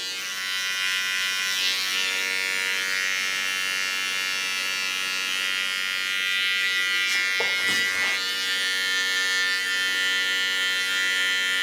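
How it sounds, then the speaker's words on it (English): A small electric hair clipper trims the contour of a short pixie cut with a steady, close buzzing hum that holds nearly constant, briefly wavering near the end, with no voices. "Take a small clipper, clean the contour, get rid of the woolly hairs."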